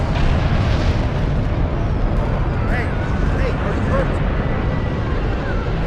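Torpedo explosions in the sci-fi game Star Trek Online as a ship attacks a Romulan settlement: a continuous loud rumbling roar of blasts with faint crackles, dense and sustained throughout.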